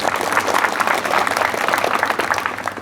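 A crowd at an outdoor election campaign rally in a tribal community gives applause as a mark of respect, with dense, continuous clapping for about three seconds and no voices on top.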